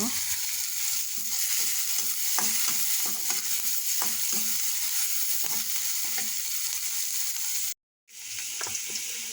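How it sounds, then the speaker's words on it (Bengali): Onions frying in a pan for a spiced singi catfish bhuna, with steady sizzling and repeated scrapes of a stirring spoon, close and continuous, broken by a short silence near the end. "পেঁয়াজটা আমি ভালোভাবে ভেজে নেব"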